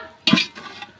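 A spoon stirs egg semiya with pepper in a pan, giving one sharp scraping clatter followed by softer sizzling scrapes, close and brief, with no talking.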